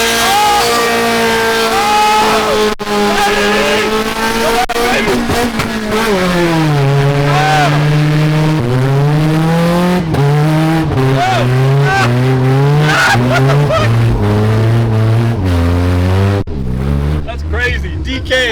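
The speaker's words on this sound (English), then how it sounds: "We have McDonald's trays where we put these under the rear tires and slide it around in a parking lot." Low-powered 60 hp Honda Civic sliding around a parking lot with McDonald's trays under its rear tires, the engine droning loud and near with rising and falling pitch as the car drifts, continuous throughout.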